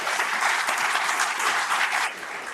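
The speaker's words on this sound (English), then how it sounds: "Please give him a round of applause." An audience at a governor's final State of the Territory address gives a round of applause, a dense, steady wash of clapping that carries on without a break and eases off slightly near the end, with no one talking.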